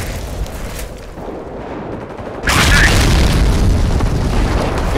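An SD-2 butterfly bomb detonates in the Company of Heroes Europe at War mod on the Oosterbeek map: a loud, sudden boom midway that swells into a sustained, rumbling roar over the continuing battle noise.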